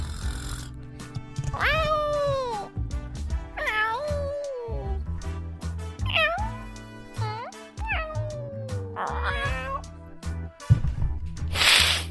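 A cat meows repeatedly in long, drawn-out, rising and falling calls over a steady backing of music.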